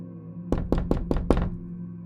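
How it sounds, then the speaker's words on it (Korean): Five loud knocks on a door, evenly spaced in a quick sequence, close and sharp against a quiet low hum, used as an eerie effect in a Korean horror radio story. "의문의 방문객은 이번엔 3번이 아니라 여러 번 문을 두드렸고"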